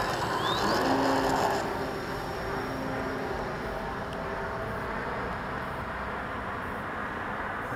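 An RC airplane powered by a Cobra electric motor and prop climbs vertically, a steady broad whine and rush held at even loudness throughout, slightly stronger at the start, with no talking.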